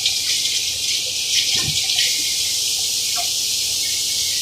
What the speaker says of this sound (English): I wash my hands first.